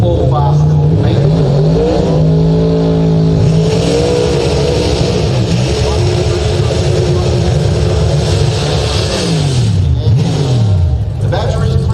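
Corvette drag race car accelerating down the track at a Winternationals grand finale, a loud sustained engine roar rising and shifting in pitch, with a commentator talking over it throughout.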